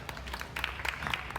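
Brief burst of audience applause at a vegan festival talk, dense scattered clapping for just over a second with a faint voice beneath.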